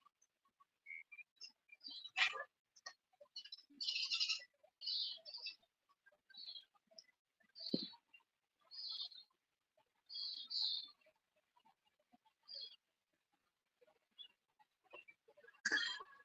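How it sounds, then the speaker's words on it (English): Real birds outside a window chirp and tweet in short, bright bursts, scattered and fairly faint, with quiet gaps between calls and a few sharp clicks nearby. "No, those are real birds."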